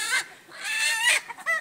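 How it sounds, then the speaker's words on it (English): A rooster in a neighbouring pen calls out in a few loud, squawking bursts, close by and with short gaps between them, with no talk over the calls. "It's a stupid rooster in the next pen, aggravating the chicken."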